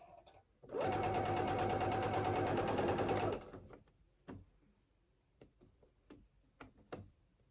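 A sewing machine stitches knit fabric for a tank top in one loud, rapid burst of about three seconds. Quieter clicks and handling knocks follow as the fabric is repositioned.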